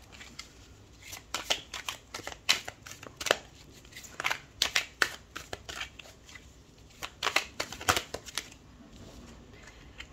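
A large, slippery card deck shuffled by hand, with irregular clusters of crisp snapping riffles and softer sliding between them, close-up and moderately loud, without speech.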